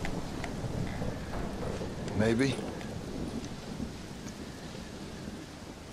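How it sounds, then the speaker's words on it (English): Thunderstorm in the Red Dead Redemption: Undead Nightmare video game: a steady hiss of rain with a low rumble of thunder swelling briefly in the middle, and a voice speaking once over it. "Well, it's just the storm"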